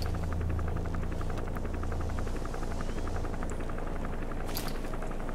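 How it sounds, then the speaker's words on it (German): A helicopter in Metal Gear Solid V: The Phantom Pain drones steadily with a rapid, even rotor chop over a dense engine roar, loud and constant throughout with no voices. "Erstmal schauen, was der Hubschrauber wieder macht."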